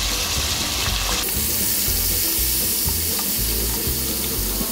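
Garlic-ginger paste sizzling loudly in a frying pan with browning onions for mustard-leaf saag, a steady close frying hiss with some stirring, no talk.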